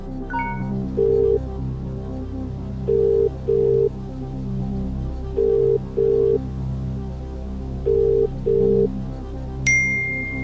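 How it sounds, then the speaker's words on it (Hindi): Telephone call placed from a game show set, short dial chirps followed by a repeated paired ring tone in a steady rhythm over a low hum, ending with a sharp electronic tone; no one speaks. "तो लोबीराम सर जी को फोन लगाया जाए।"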